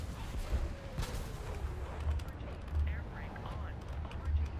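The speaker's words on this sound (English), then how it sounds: "Let me fire a missile on him." A missile fires from a top-tier jet in the air-combat game War Thunder: a dull launch thump and rushing roar over a steady, noisy engine drone, with a few low booms across the stretch.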